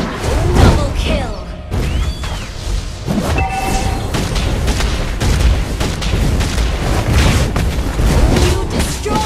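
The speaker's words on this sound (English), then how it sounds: "You destroy the turret!" A turret is destroyed in Mobile Legends amid loud, dense game combat, booming impacts and crashing hits piling on each other continuously, with bits of voice under the noise.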